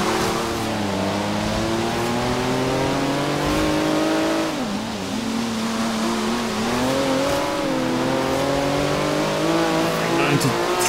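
A Honda NSX races in Forza Horizon 3, its engine droning steadily with rising and falling revs throughout, one brief dip midway, loud and continuous.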